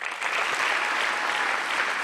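A crowd claps steadily and loudly for a graduating firefighter recruit class at a fire department ceremony, dense applause filling the whole moment without voices.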